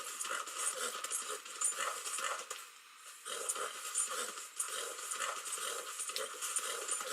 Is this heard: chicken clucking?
no